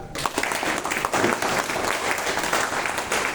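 A seated crowd at a business seminar about MLM companies breaks into brisk, continuous clapping, fairly close and loud, with no talking over it.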